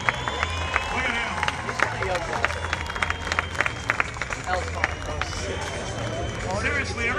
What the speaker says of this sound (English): Give Zach a round of applause